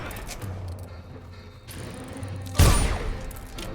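A single heavy gunshot with regular bullets in the stealth game Dishonored, a sharp loud burst that rings out briefly over a low ambient game drone.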